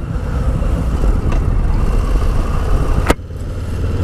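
A Harley-Davidson Low Rider ST motorcycle rumbles loudly and steadily up close, its deep engine note briefly broken by a sharp click as it shifts into second gear.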